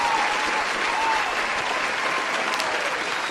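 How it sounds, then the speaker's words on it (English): A crowd breaks into a loud, dense round of applause at an online awards show, the clapping sustained and even across the short stretch. "Round of applause!"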